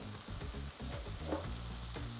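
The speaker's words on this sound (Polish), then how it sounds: "Mięso nam się tutaj smaży z każdej strony" Chicken fillet sizzling and crackling steadily in a hot pan, a constant low frying hiss with small pops, fairly quiet.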